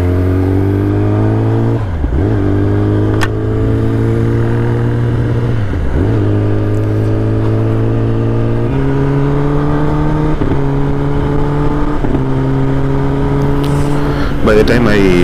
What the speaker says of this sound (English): a mini race was going on in front of me between the bullet and the Jawa